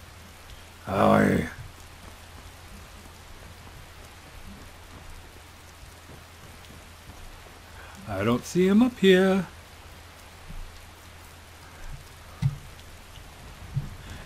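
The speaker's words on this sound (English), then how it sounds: "It would have to be raining when we get here" Steady rain falls in the Skyrim video game, a soft constant patter throughout while a voice talks in short bursts over it.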